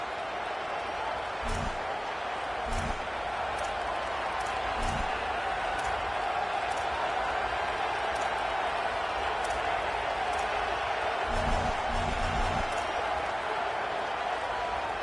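Dense college football stadium crowd noise forms a constant roar throughout, with scattered thumps and a commentator talking over it.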